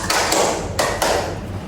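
Schoolchildren in a classroom clap in unison for a counting clap game, four crisp group claps in a quick uneven rhythm, close and loud against faint room noise.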